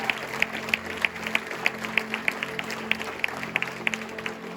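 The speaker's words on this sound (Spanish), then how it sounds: "Alguien le puede dar un aplauso a la sangre de Jesús." A church congregation claps in praise after a preacher's call, a steady patter of many hands with sharp, evenly spaced louder claps over a low room hum, moderately close.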